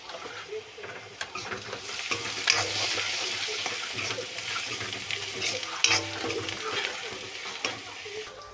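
Curry leaves, turmeric and onion paste sizzle and fry in a pan, a steady close crackle with occasional stirring scrapes and a few louder pops, and no one talking.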